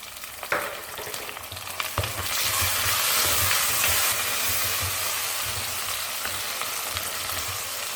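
Tomato and curry leaves sautéing in a pan for Karaikkudi mutton intestine kuzhambu, a brief stir and then a loud, steady, close frying hiss that builds and stays strong.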